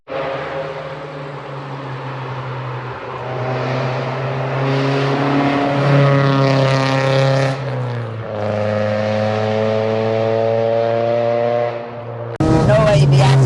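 A one-off modified VW mk2 Golf GTI engine pulls hard through second gear, its loud, rising drone sustained for several seconds before easing off, heard from inside the car with a voice talking over it.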